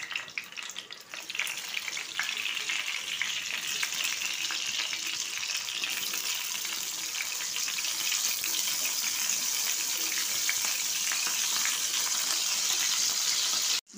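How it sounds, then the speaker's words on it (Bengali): Thin salted eggplant slices frying in oil in a frying pan make a steady, close hissing sizzle with fine crackles that grows slightly fuller over time, heard alone with no voices. "আমি ফ্রাই প্যানে তেল দিয়েছি, এবার এগুলো আমি ভেজে নেব"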